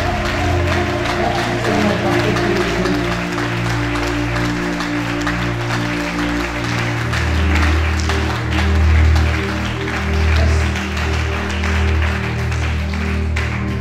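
A church congregation applauds together at length, sustained clapping rising and falling in waves, fairly close and full, with no talk over it.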